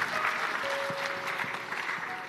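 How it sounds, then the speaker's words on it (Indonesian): Audience applause at an Indonesian parenting talk, brief steady clapping from a seated crowd heard at moderate distance throughout. "Tepuk tangan bapak-bapak."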